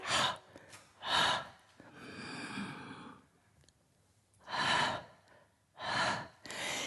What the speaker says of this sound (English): Inhale, double percussion breath